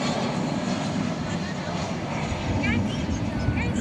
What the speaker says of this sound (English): Lufthansa 747-8 intercontinental passenger plane here.